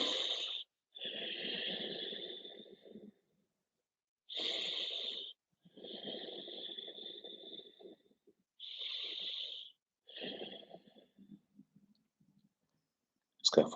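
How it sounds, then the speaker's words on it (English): Ujjayi yoga breathing during a vinyasa practice, slow audible inhales and exhales with a hissing, throaty rasp, several long breaths separated by silent pauses, close and clear with no talking. "just bring ourselves back to our Ujjayi breathing"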